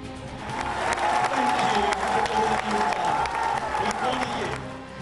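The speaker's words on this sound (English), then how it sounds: "Firefighters are applauded" Crowd applauding firefighters after the Grenfell Tower fire in London, a steady wash of clapping and cheering from many people, loud and continuous throughout with voices mixed in.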